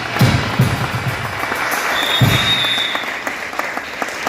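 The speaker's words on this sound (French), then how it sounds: "Est-ce que tu peux l'acclamer?" A church congregation at a French-language sermon breaks into steady, loud applause, a dense wash of clapping from many hands filling the room, with a few sharper nearby claps standing out.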